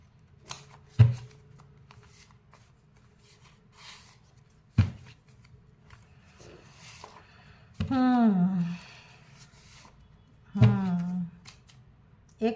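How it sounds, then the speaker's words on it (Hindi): Tarot cards being shuffled and drawn: a few sharp slaps and brief riffling bursts spaced out among quiet handling, with a voice speaking in between. "एक कुछ कार्ड निकाल लेती हूँ"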